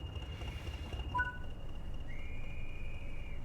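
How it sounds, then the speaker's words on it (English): A train guard's whistle in Train Sim World 4 on the Blackpool branches, one short two-tone chirp followed by a longer steady whistle tone over a low engine rumble inside the cab. "That was a whistle"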